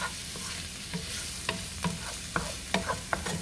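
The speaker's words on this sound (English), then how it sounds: "Then we're going to go ahead and drop our garlic in there" Two medium garlic cloves drop into a hot pan beside pork chops cooking, giving a steady close sizzle that is punctuated by repeated sharp clicks and scrapes of stirring, with no talk.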